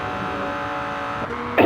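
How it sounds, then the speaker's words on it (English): A Lamborghini Murcielago engine at a racing event sounds as a steady, loud droning whir with harmonic tones, then swells briefly in a sharp revving burst near the end. "There's a very loud car somewhere."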